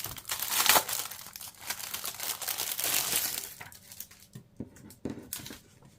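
Crinkly plastic packaging rustles and crackles up close as a Galaxy Z Fold4 keyboard is pulled out, in uneven bursts that thin into a few separate crinkles and taps near the end.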